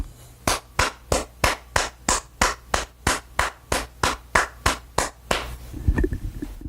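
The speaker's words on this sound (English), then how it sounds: "I'm going to basically clap my hands." One person claps their hands in an even, brisk rhythm of about 180 beats per minute, roughly fifteen crisp, close claps in a row, followed by a soft rustle and a thump once the clapping stops.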